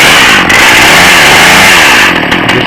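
A chainsaw engine started with choke and trigger held, then running and revving loudly at close range in a continuous buzzing roar with slight rises in pitch.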